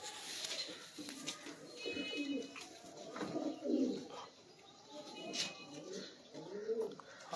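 A rare Sialkoti pigeon coos in soft, repeated rolling calls close by, while people talk in the background.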